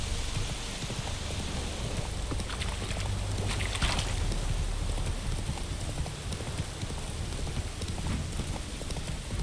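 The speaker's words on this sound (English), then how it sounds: "If it don't stop raining" Rain pours steadily in The Witcher 3, a dense continuous hiss of drops on surfaces, mixed with rhythmic hoof-like clopping and low rumbling, no voices heard.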